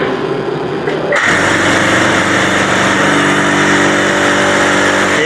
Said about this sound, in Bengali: আজকের এই ভিডিওতে যে মেশিনটি দেখতেছেন এটি টিই ফোর জিরো ওয়ান মডেলের একটি ব্লক মেশিন